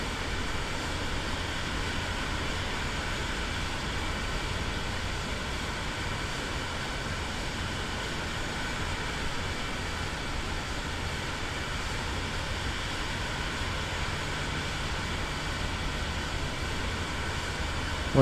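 A light aircraft taxis with its engine RPMs set just right, producing a steady, unbroken drone. The engine stays at an even pitch and loudness throughout, heard close up with no talking.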